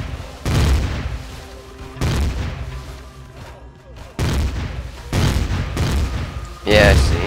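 Two enemies firing in a video game: about five heavy, booming shots land one to two seconds apart, each with a loud blast and decaying tail, and a voice speaks between them.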